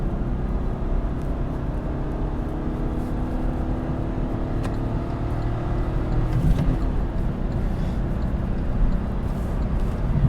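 A 2019 Kia Picanto with a 1.0 engine accelerates along a dual carriageway, its steady engine drone and road roar filling the cabin evenly throughout, close and continuous with no talk.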